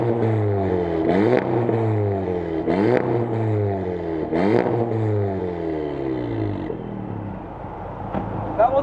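2018 Volkswagen Mark 7.5 GTI with a rev limiter, revved three times in quick succession, each rev climbing sharply and dropping back before settling to a steady idle, loud and close.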